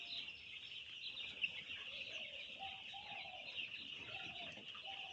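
Chickens on a small chicken farm cluck in short, scattered calls through the clip, set against a steady high-pitched hum that runs throughout.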